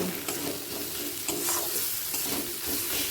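Ground spice masala for ghugni stir-fried in a pan, a steady close sizzle with the scrape of a spoon rising and falling throughout, no voices.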